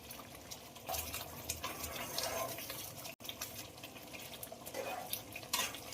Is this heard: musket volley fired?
no